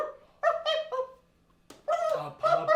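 A puppy whimpers and yips in several short, whiny bursts close by, with brief quiet gaps between the cries and no talk over them.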